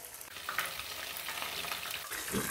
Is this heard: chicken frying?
yes